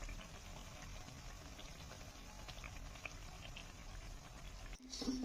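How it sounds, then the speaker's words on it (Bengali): Eggplant fritters (beguni) frying gently in hot oil, a faint continuous bubbling hiss with no clear breaks, ending in a short knock. "হালকা হাতে বেগুনিগুলোকে ভেজে নিতে হবে"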